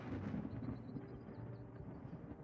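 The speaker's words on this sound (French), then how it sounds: "Ah, ce tonnerre, c'est ouf." Thunder from the video game Wartales rolls as a faint, continuous low rumble that swells slightly at the start and keeps going under a quiet background.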